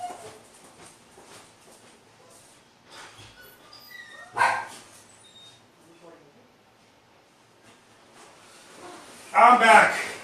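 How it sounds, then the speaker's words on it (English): A dog barks in a home during an oil painting session, two loud, close bursts of barking a few seconds apart standing out over a quiet room. "my dog here is barking."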